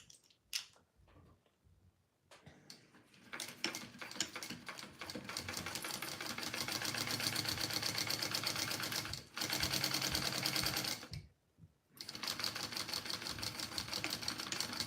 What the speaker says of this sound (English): And now I'm going to sew those together.